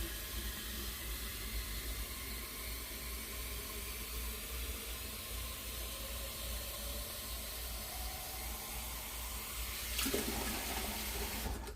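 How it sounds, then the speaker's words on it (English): Tap water runs steadily into a pressure canner pot for canning chicken stock, a soft continuous hiss and patter heard close and alone, with a brief louder splash near the end. "Probably should put some water in my pot."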